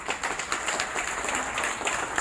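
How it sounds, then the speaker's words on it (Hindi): Audience applause at a live event, a steady dense wash of clapping from a crowd with no individual claps standing out, continuous at moderate level throughout. "ताली होनी चाहिए साहब"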